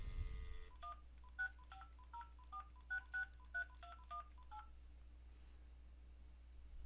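A telephone number is dialed as a string of about a dozen crisp DTMF keypad tones in quick, slightly uneven rhythm, clear and close over a quiet line hum.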